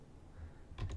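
Fingers tap out a short command on a computer keyboard in a terminal: a couple of crisp keystrokes close to the microphone near the end, with no talk.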